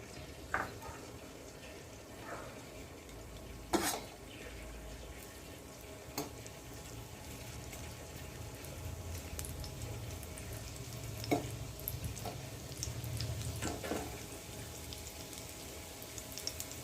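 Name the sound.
ginger pieces frying in hot ghee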